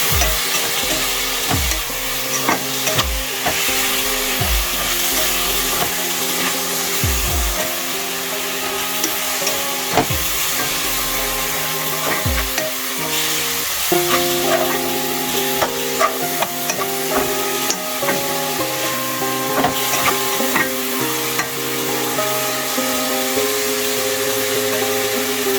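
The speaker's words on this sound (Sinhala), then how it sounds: "හොඳින් කලවම් කරගන්න." A spoon stirs pineapple caramel prawn rice with carrots in a pan, making repeated close scraping and knocking strokes over a constant frying hiss, with no voices.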